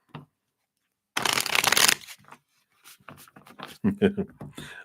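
A deck of tarot cards is shuffled in a rapid, close riffling burst lasting under a second, followed by quiet handling and a person talking.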